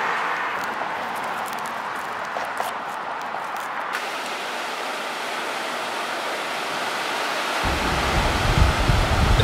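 Pacific Ocean surf rushes in a steady broadband wash that swells louder toward the end, with a deeper roar as a wave breaks, heard alone without voices.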